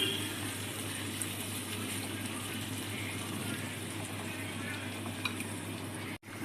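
Tamarind juice is poured into a simmering onion and drumstick sambar, a soft continuous watery gush over a low background hum, close and fairly quiet, with no one speaking.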